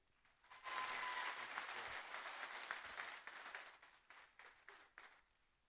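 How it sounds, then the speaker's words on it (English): An audience at a martial arts event breaks into loud, dense applause that swells quickly, holds steady, then thins into scattered claps as it fades. "Let's give a big round of applause to Master Joe Corley."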